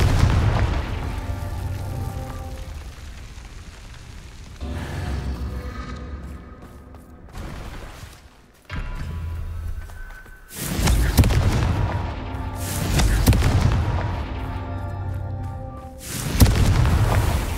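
Confringo fire-blast spell in the game Hogwarts Legacy, sounding as a series of loud booming explosive bursts, several heavy blasts spaced through the stretch with rumbling decay between them, no talking.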